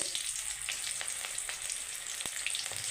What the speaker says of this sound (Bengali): দুটো চেরা কাঁচা লঙ্কা দিয়ে দিচ্ছি। একটু কাঁচা লঙ্কাটা ফুটবে